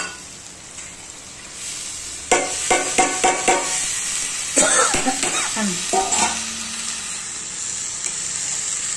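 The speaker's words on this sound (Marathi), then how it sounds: "आता हे तेल सुटेपर्यंत हे मसाला भाजतोय, त्याच्यामध्ये मटकी द्यायची टाकून।" Masala roasts in oil with moth beans (matki) for Kolhapuri misal, a steady close sizzle under a quick series of spoon-stirring scrapes and clinks in the middle.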